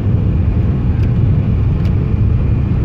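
A car drives in heavy traffic on the Brovary highway, with a loud, steady, broadband rumble of road and engine noise throughout and no talking.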